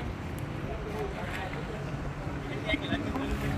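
A small boat approaches along the river near Trà Ôn bridge, giving a steady low engine rumble mixed with wind noise that holds throughout.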